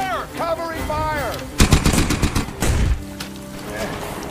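Gunfire from a World War I battle reenactment at Passchendaele: after shouted voices, a rapid burst of loud, close rifle and machine-gun shots rattles for over a second, then fades to distant noise.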